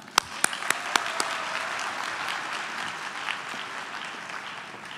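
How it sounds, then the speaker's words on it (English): Audience applause at a 2019 college graduation ceremony in Mississauga greets a city councillor, opening with a few sharp, loud claps before settling into steady, moderately distant clapping from a crowd that continues evenly throughout. "Let's give a loud applause for Councillor Ron Starr"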